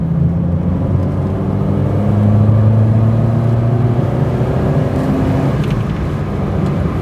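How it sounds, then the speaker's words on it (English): A Triumph Acclaim's engine hums smoothly in third gear after a downshift, a steady low drone with mild rise in revs and road rumble heard from inside the car, no talking. "I just downshifted to third, and I just don't need to because the engine is so well behaved"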